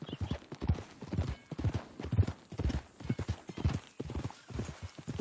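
A horse's hooves clip-clop in a steady walking rhythm in Red Dead Redemption 2, many even beats at close range, moderately loud, with no other sounds over them.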